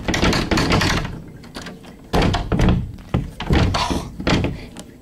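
A stuck door thumped and rattled hard in repeated loud bursts as someone struggles to get it open, heavy knocks in uneven clusters close by, with no speech.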